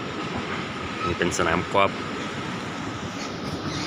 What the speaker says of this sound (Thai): ไปแล้วนะครับรถไฟฟ้า